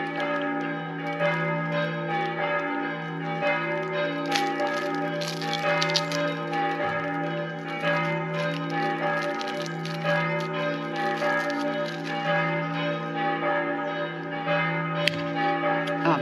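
Church bells ring on and on in a Slovenian village during a cycling trip, a dense, sustained peal of overlapping strikes and humming tones, loud and near, heard alone without voices.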